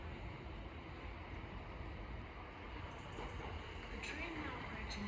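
A London Overground Class 378 electric train on the Crystal Palace to Highbury and Islington service runs through Sydenham station on the Brighton Main Line, a steady broadband rumble and rail roar holding at an even level throughout.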